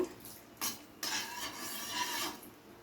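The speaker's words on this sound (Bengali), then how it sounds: "ফোড়নটাকে হালকা নাড়াচাড়া করে নেব।" Tempering spices with two bay leaves being stirred in a pan, a quiet scraping and rubbing of the utensil against the metal in a few short strokes, close and without talk.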